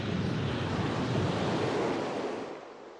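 Pounding sea waves as a sound effect, a loud steady roar of surf with wind that eases off slightly near the end, with no voices.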